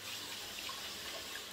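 Shampoo being swished by hand through a basin of water to wash a wig, a steady close splashing and sloshing with no pauses throughout.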